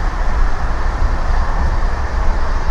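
A train rushes along at about 130 km/h toward Jolarpettai, giving off a loud, unbroken rumble and roar that holds steady throughout.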